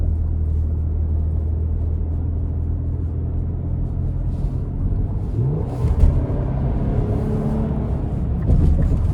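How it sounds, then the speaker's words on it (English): A 2026 Nissan Armada NISMO with its NISMO exhaust, a steady low rumble from inside the cabin that swells into a brief rising rev partway through, continuous drone throughout with no talking. "the NISMO exhaust systems are just bar none when it comes to that tuner, like Need for Speed underground sound"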